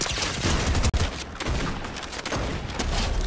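Dense, continuous gunfire fills a Prop Hunt video game match, a loud steady barrage of shots with one brief cut near the start and no talk.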